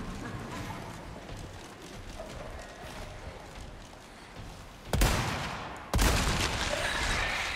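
Gunfire in Resident Evil 4 Remake, with two loud broadband shots near the end cutting through a busy, noisy game background of scattered crackling.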